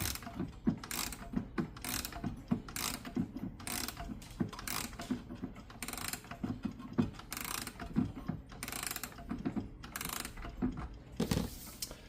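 Ratcheting clicks as a key winds the strike side of a Sessions tambour mantel clock counterclockwise, close and crisp, coming in repeated bursts with short pauses between turns.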